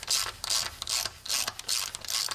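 A ratchet wrench clicks rhythmically in six quick bursts as bolts are threaded into a Peterbilt semi truck transmission during a swap, each stroke a bright metallic ratcheting near the mic.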